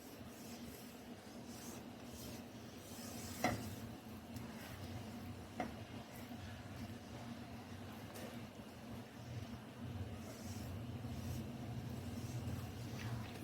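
Chutney cooks on high heat in a pan, giving a soft continuous sizzle and bubbling hiss with a few faint clinks, quiet and steady throughout.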